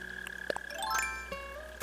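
Mole cricket in Animal Crossing New Horizons giving a low, steady buzzing chirp, joined by soft game chimes and tinkling tones playing over it, quiet and without speech.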